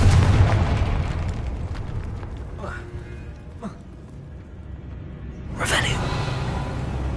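Confringo fire spell blasts in Hogwarts Legacy, heard as a couple of sharp bursts with a louder crackling explosion near the end, over dense game music and ambience.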